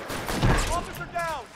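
Gunfire during a shootout in the L.A. Noire video game, one heavy close blast followed by lighter cracks, overlapping with voices talking.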